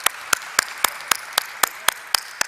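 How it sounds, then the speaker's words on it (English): Rhythmic, evenly spaced claps ring out at a company stock-exchange listing ceremony, about ten crisp beats over a faint background hum of a room. "Please request all of you to give them a huge round of applause"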